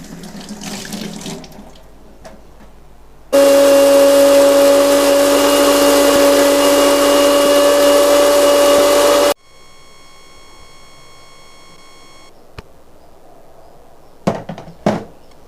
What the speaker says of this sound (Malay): Ini adalah pucuk jambu yang akan kita kisar.